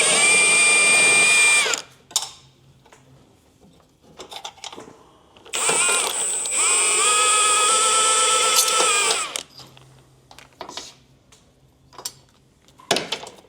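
Two long bursts of a power tool, likely an impact wrench, working on a car's control arm and subframe, each running for a few seconds at steady pitch, with scattered clanks and light handling noises between and after.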